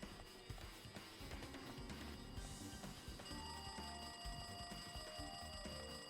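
An alarm in the Danganronpa 2 video game rings loudly and continuously with a bright, rapid bell-like trill, steady throughout with no speech.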